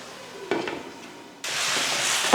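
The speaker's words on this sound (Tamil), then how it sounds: "இப்போ மூடி போட்டு நல்லா வதங்க விட்டுறலாம்." Tomatoes cook in oil in a pan as a lid goes on. Soft frying crackle comes first, with a clink of a utensil or lid, then a sudden, louder and steady sizzle that carries on alone without talk.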